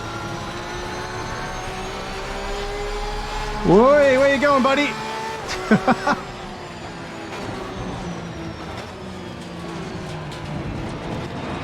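A continuous GT race car engine drone from Assetto Corsa Competizione hums throughout while someone briefly speaks over it, his voice rising in surprise.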